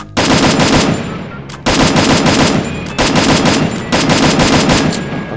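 Battle royale video game gunfire rattles out in four loud, rapid automatic bursts, each about a second long, close and dominant with brief pauses between them.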